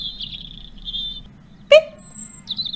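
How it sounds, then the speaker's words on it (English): A robin gives a single sharp peep partway through, loud and close, with other faint high bird chirps before and after over a low steady background hum. "The robin peeped."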